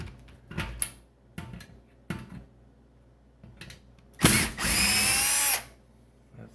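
A cordless power drill backs screws out of an overhead fluorescent light fixture: a few short clicks and rattles, then a loud, close, steady whir of about a second and a half.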